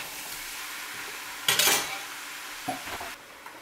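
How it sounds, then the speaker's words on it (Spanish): Pork ribs, poblano strips and mushrooms sizzling together in a pan, a steady fry broken by a loud stirring scrape and a few softer utensil knocks. "vamos a regresar las rajas y los champiñones para mezclar todo muy bien. Y vamos a dejar que se cocine un poco"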